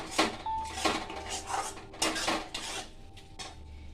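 Fish curry masala for katla kalia being stirred in a pan, heard as repeated close metallic clanks and scrapes of a spoon against the pan in an uneven rhythm with little sizzle.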